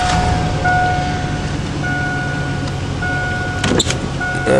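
An idling Chevy Silverado truck hums steadily up close while its power window motor whines in short stretches, stopping and starting, with a clunk near the end.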